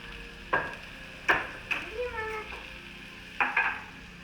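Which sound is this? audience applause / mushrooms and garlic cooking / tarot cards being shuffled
mushrooms and garlic cooking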